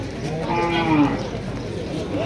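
At a rain-soaked cattle market in Barura, Comilla, a cow gives one loud, close, drawn-out moo over a murmur of background crowd noise.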